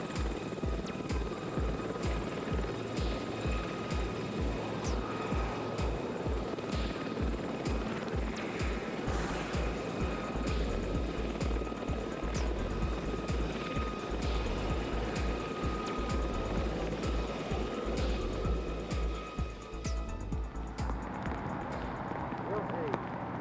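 A Lynx helicopter flies a display, its rotor thudding in a fast, steady rhythm with a high turbine whine above, loud and close for most of the time before the sound changes near the end.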